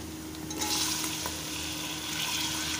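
Chopped tomatoes hit a hot pan of fried green chillies on high heat for pav bhaji, setting off a sudden hissing sizzle that keeps going as a steady frying crackle.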